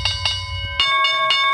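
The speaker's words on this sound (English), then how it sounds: "There's your opening bell as they come spinning out of the turn." A stock exchange opening bell rings during a live market broadcast, three or four bright metallic strikes in quick succession that sound steady and loud, with a low rumble underneath at first.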